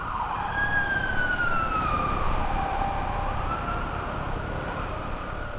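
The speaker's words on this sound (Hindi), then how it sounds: "ambulance I" Wailing ambulance siren passing close and loud, its pitch sweeping down steadily, heard alone over constant traffic rumble.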